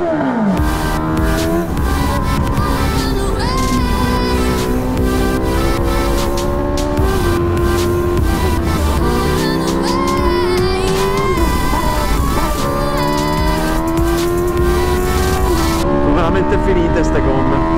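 A race car engine with its throttle stuck open drones loudly and continuously, its pitch sliding up and down in repeated surges as revs rise and fall, close up and dominating throughout.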